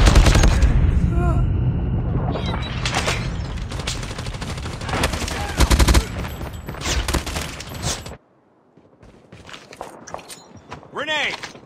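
Call of Duty Mobile combat with dense machine-gun bursts and rapid gunshots, loud and close, then a pause and a grenade-like boom and scattered shots, with voice callouts over the action.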